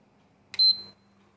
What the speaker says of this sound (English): We have heard 1 beep sound,